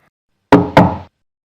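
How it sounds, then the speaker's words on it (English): A prince knocks on a witch's door, two sharp raps close together, loud and near, each ringing briefly before silence. "The prince knocked 3 times on the witch's door."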